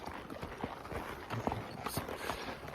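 A restless horse stamps and shifts nearby on a farm, giving irregular hoof clops and thuds over a soft background hiss for a few seconds, with no talking.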